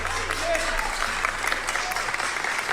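Audience applause, a dense even patter of clapping heard at moderate level throughout, with voices mixed in.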